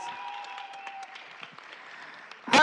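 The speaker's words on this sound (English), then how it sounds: "Can I get another round of applause for these scholars?" An audience at an elementary school board of education meeting applauds student scholars, a steady wash of clapping that rises into a louder burst at the very end.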